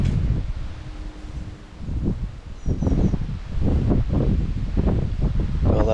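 Wind gusts through trees in an outdoor graveyard, a steady rushing rustle of leaves with wind buffeting the microphone, rising and falling but constant throughout.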